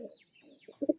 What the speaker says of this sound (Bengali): বন্ধুরা একটা আন্ধ্রা পায়রা দেখাচ্ছি